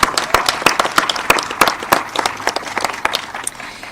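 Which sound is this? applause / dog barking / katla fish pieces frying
applause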